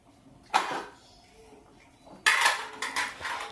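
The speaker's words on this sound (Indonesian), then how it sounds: "aku mau beresin cucian piring bersih ya, mau aku balikin ke tempat-tempatnya" Clean plates and cutlery are put back in a home kitchen, with a sharp clatter early on, then a busier run of clinks and ceramic knocks, all fairly quiet with no talk.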